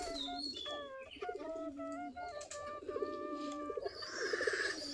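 Domestic Giribaz pigeons coo steadily while feeding near their loft, several birds overlapping in soft repeated calls with a brighter burst of chirping toward the end, no talk over them.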